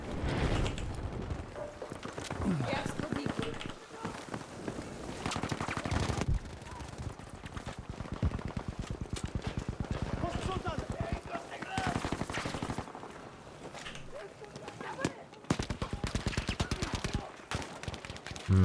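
Gunfire crackles through a Battlefield V multiplayer team deathmatch, with repeated sharp shots and rapid machine-gun bursts in dense volleys and a few short pauses, while players talk over the action.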